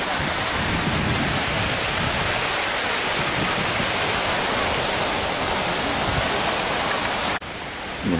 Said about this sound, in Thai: ใหญ่โตมากอ้าวนี่น้ำตก